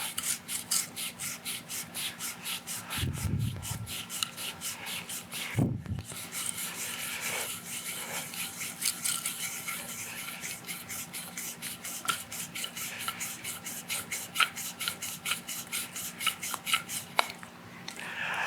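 Continuous wooden rubbing and creaking as a wooden windlass rod made from a closet rod is wound, steady and close, with a few brief knocks partway through and no talking.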